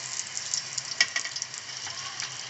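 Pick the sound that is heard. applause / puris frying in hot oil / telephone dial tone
puris frying in hot oil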